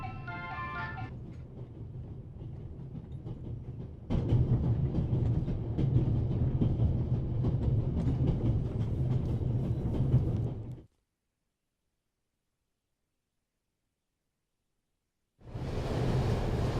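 A moving train in The Raven: Legacy of a Master Thief rumbles steadily at full speed with rhythmic clatter, growing louder partway through, then cuts to silence before the rumbling returns; no voices are heard.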